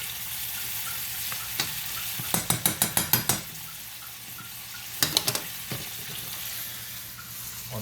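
Pancetta and mushrooms for carbonara sizzling in a pan, a steady close hiss of frying with a quick run of sharp clicks or taps in the middle and a few more later, no voices.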